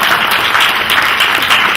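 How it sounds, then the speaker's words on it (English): An audience at a talk about education and scholarships breaks into loud, sustained applause, many hands clapping together in a close, continuous burst. "I'm sure the Prime Minister heard your applause."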